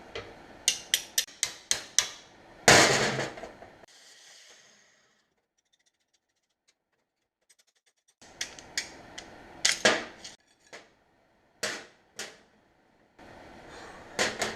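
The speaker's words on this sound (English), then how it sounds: "It's just pushing out all the dents from the inside." Metal taps and knocks ring out as dents are pushed out from inside a car body panel on a Sport Quattro replica front end: rapid clicks, a louder clunk, a long silence, then scattered sharp knocks.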